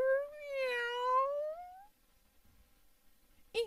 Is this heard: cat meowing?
yes